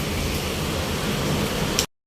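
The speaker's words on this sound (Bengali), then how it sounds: "সন্ধ্যায় হঠাৎ করে বৃষ্টি হলো" Sudden evening rain falls on a balcony, a dense even hiss of steady rainfall that runs loud and unbroken before cutting off abruptly near the end.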